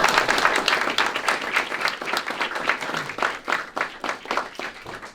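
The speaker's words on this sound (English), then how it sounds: "Let's give these guys a round of applause to show our appreciation." Audience applause for firefighters at a fire department truck dedication and blessing ceremony, dense steady clapping from a crowd lasting throughout with a slight swell near the end.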